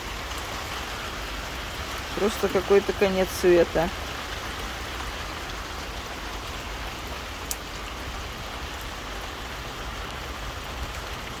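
Heavy downpour in a village in Krasnodar region, a dense, steady hiss of rain pouring throughout, with a voice speaking briefly near the start.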